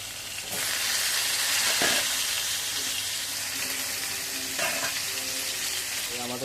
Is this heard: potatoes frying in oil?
yes